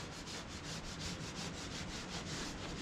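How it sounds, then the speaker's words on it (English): A scraper handle is rubbed rapidly back and forth across the sawdust-caked felt strip of a Wood-Mizer LT35 HD sawmill, a quiet, close, rhythmic scraping with about a dozen quick strokes. "Scrape that off."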